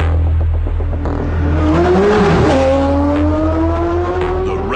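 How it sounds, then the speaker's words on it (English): A race car accelerates hard at the start of a race, its engine note climbing steadily in pitch, loud and close throughout the short burst. "James, who's now warming his tyres, look, had to set off 4 seconds after the Porsche"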